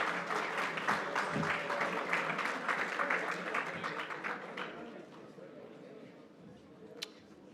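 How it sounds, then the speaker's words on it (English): Audience applause for award recipients at a community sports awards evening, dense clapping that gradually thins and fades toward the end, ending with a single sharp click. "One more round of applause for our recipients."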